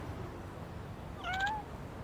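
A cat meows in the video game Lost Judgment, two short rising tonal cries in quick succession, clear and fairly close over a steady low background hum.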